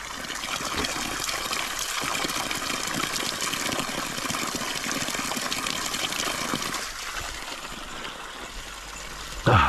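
A forest stream flows and gushes in a steady, close, continuous rush of water with no talking, ending in a brief louder bump.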